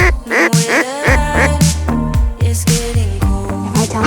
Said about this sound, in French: Un canard au loin.